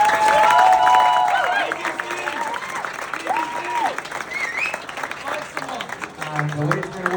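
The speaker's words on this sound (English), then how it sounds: "if we can all please, well, big clap for Zach for organising all this as well" An audience at an awards ceremony claps and cheers, with loud applause that eases into lighter clapping under overlapping voices and chatter.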